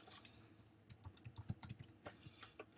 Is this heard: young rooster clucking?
no